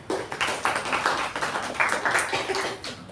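Applause at a Toastmasters meeting, a short burst of dense clapping from a small crowd, fairly close and steady.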